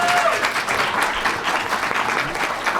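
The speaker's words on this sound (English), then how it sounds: "Please give our panelists a big round of applause, everybody." An audience at a town hall meeting claps steadily, a dense even patter of many hands filling the room without pause.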